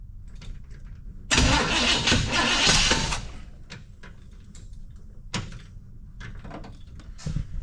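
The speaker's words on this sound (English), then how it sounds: "We're backfiring through the carb" A 1937 Ford engine cranks and catches in a loud two-second burst, then backfires through the carburetor with sharp, scattered pops over a quieter background; no talking.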